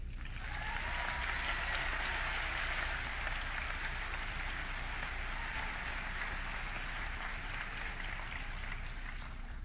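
A graduation ceremony audience at the University of Vermont business school claps steadily to welcome a speaker, a broad, even wash of applause from a large crowd that holds at a constant level throughout.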